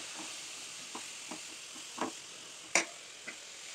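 Bitter gourd pieces frying in oil sizzle softly, with a low steady hiss broken by a few scattered stirring clicks and one sharper scrape.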